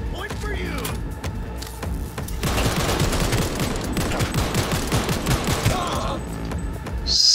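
Rapid, powerful gunfire from a weapon in Cyberpunk 2077 rattles off in a dense, sustained burst through the middle of the stretch, loud and close, with game sound around it.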